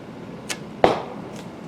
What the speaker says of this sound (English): My arrows hitting the board kind of sound like gunshots.